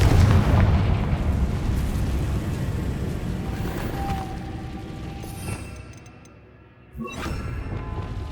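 A Confringo fire spell explodes in Hogwarts Legacy, a loud booming blast that rumbles and fades, followed by a second sharp burst near the end.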